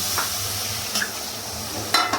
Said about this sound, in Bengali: এবার আমি এর মধ্যে একটু জল অ্যাড করে দিচ্ছি।